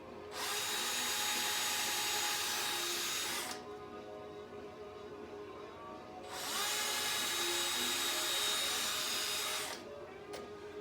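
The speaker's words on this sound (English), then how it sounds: "I found if I drill a small pilot hole first," A power drill bores a small pilot hole into a rubber snowmobile track for a track sled build, in two sustained loud whirring bursts separated by a brief pause, with no talking.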